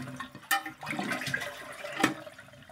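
A toilet flushes after its flush handle was replaced, a close rush of water surging at the lever press and swirling down, with a second gush near the end.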